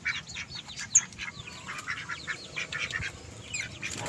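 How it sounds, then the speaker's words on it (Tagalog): Backyard ducks kept with their young call repeatedly in a steady, overlapping chatter of quacks and squawks, moderately close, with a low rumble of background noise and no talk. "Tapos ayun yung itik natin."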